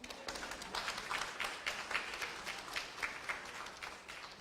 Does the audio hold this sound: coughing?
no